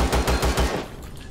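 Rapid automatic gunfire hits the player in Empyrion Galactic Survival. About five close, loud shots come in a steady burst, then fade into a short tail with no talk.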